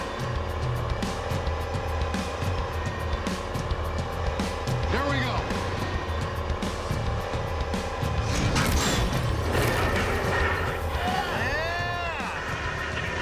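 The Robosaurus, a giant car-crushing robot machine, attacks a car with mechanical whirring, engine noise and crunching bursts while people talk over it.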